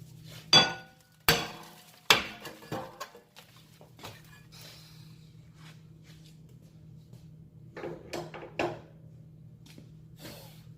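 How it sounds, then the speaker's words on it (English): Metal clips pried off and a file scraping rust from an Audi A4 rear brake caliper bracket clamped in a vise, with several sharp clanks early, then quieter intermittent scraping and clinks over a steady low hum. "take these clips off, and file down any rust or corrosion here"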